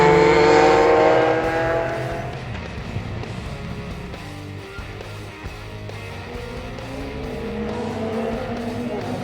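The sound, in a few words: classic race cars going out on track at Thruxton Circuit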